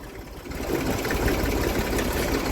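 A tractor engine chugs steadily while the tractor bounces slowly along a rural track beside wheat fields on a cold, windy winter day, a loud, close, rough mechanical drone with no talk.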